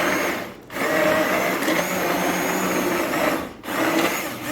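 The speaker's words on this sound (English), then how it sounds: "This used to be my parents' immersion blender, so it is pretty old." An old immersion blender whirs steadily through potato and leek soup, a continuous motor hum that briefly dips twice as the blade shifts in the pot.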